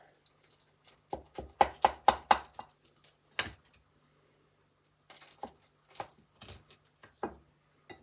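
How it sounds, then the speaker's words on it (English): A knife slices through a rice crust quiche, giving a quick run of sharp, crisp crunching taps, then a few scattered knocks and clinks of the blade on the plate, fairly close and quiet. "So I'm just going to cut a slice."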